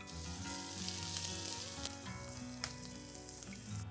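Onions with grated ginger, garlic and chopped green chilies sautéing in a pan for an aloo bhuna, a steady close sizzle with some faint clinks, no voices.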